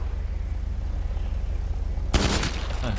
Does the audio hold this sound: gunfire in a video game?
yes